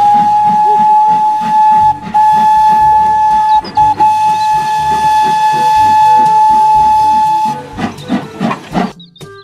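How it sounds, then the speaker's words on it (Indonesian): A Thomas toy train sounds a steady, shrill steam whistle that holds for several seconds over a busy, noisy background, then breaks into short choppy bursts near the end. "Kereta Thomas"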